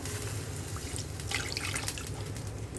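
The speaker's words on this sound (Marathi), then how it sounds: "तर एवढं मी पाणी टाकते." Water poured into a pressure cooker pot while making a Marathi-style chicken curry, a continuous splashing, trickling stream at close range with no talking.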